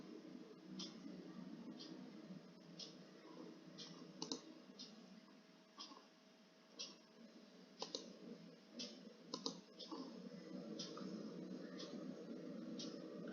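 Computer mouse clicks while a sales return is entered in billing software, sharp isolated clicks scattered irregularly over a faint steady background hum.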